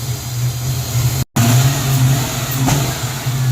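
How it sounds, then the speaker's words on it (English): A 1994 convertible's engine revving up after days of barely taking throttle, a loud, close, sustained roar with a brief dropout partway through, then the engine keeps running steadily with no talking. "First time we've been able to rev it up in days."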